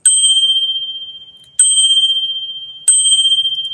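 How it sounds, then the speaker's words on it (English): Handlebar bell on an eBike struck three times, each a bright, loud metallic ding that rings out and slowly decays before the next strike, close up and alone. "Right down here, we've got the bell."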